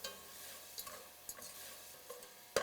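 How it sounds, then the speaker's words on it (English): Leeks sauté in a pan and are stirred around, producing a soft, low sizzle punctuated by a few scraping knocks of the utensil, with a sharper clack at the end. "So we're just going to saute the leeks, move those around."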